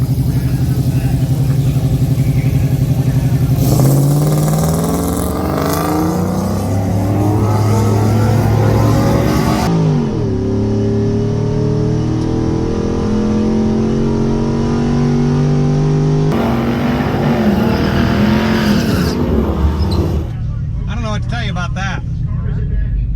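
A race car engine revving at wide open throttle, a loud, sustained roar that climbs in pitch through long pulls and drops off between them, with a voice talking over it.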